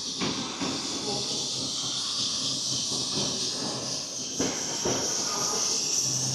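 Loud steady hiss of a train pulling into a station on a trip to China, with brakes and rolling noise filling the platform, a couple of dull knocks near the end.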